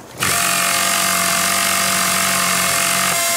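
A power tool runs continuously while repairing a vehicle in the video game Battlefield Bad Company, a steady loud mechanical whine with a low hum that starts abruptly and holds for about three seconds, no talking.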